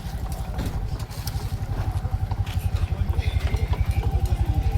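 A motorcycle engine runs with a steady rapid low putter that grows slightly louder, close by, with light clatter on top as the bike is taken out.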